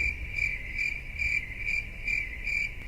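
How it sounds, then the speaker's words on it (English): Crickets chirp in a quick, regular pulsing trill, clear and steady with short rhythmic bursts over a quiet background. They are used as an awkward-silence effect. "Crickets."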